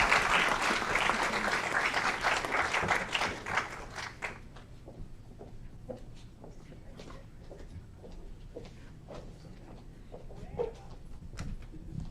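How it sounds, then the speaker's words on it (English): A council meeting audience applauds the APRCC team: a full burst of clapping for about four seconds thins into scattered, sparse claps that carry on quietly for the rest of the clip. "Big round of applause for President-elect Quiles and the entire team"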